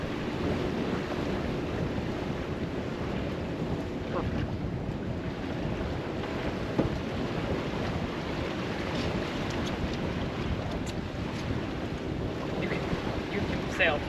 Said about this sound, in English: After we got out of Little Sturgeon Bay onto the Bay of Green Bay, there was a fair bit of wind, making it worth the effort to raise the main.